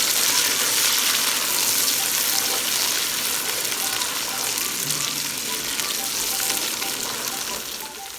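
Green peas tipped into onions already frying in a pan for matar pulao set off a loud, steady sizzle and crackle that holds strong from start to finish.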